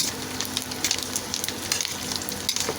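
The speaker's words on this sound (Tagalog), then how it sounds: "Inirito na po natin yung ating pusit, mga kaibigan." Dried squid fries in a pan with a steady, moderately loud sizzle broken by quick crackles and occasional stirring scrapes.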